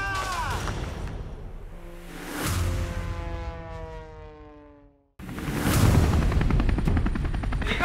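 A helicopter arrives with a loud, droning rotor whose pitch slowly falls, then a brief cut gives way to a louder, rougher wash of rotor and engine noise nearby.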